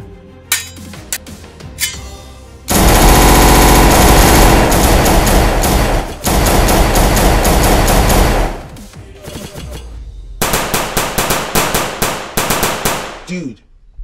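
Rapid automatic gunfire in the Roblox video game, loud continuous bursts of shots with short gaps, starting after a few quieter clicks and returning as choppy repeated volleys toward the end.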